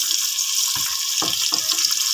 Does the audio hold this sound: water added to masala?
yes